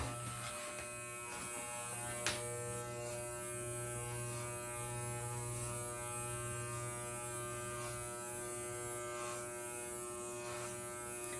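Hair clippers buzz steadily and quietly with a constant mechanical hum, a few faint clicks breaking in, no voices.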